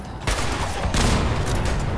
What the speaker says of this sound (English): I'm gonna blow up this car.